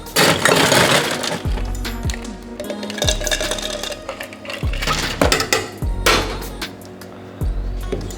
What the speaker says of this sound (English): we're going to grab our diamond cut highball, which is also part of the kit, and we are going to load that up with some ice